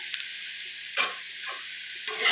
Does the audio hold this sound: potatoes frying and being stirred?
yes